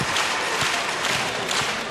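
Volleyball crowd at a VNL 2025 Canada versus Japan match, cheering and applauding steadily in a dense, loud arena wash of claps and voices.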